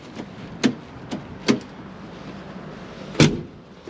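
A car door thumps shut on a 1967 Ford Mustang V8 coupe with a C4 automatic, a few sharp knocks and one firm close standing out against a quiet background.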